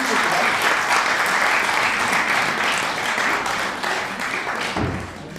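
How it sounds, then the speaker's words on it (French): Dense, loud applause from a theatre audience after a mentalist's mind-reading stage act, a steady wash of many clapping hands that thins slightly near the end. "On peut l'applaudir."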